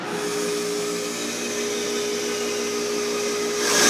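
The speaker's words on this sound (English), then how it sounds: "The bandsaw is actually capable of lots and lots of precision." A bandsaw hums steadily in a woodworking shop during a guitar-building class, a continuous close mechanical whine with a constant pitch that swells slightly at the end.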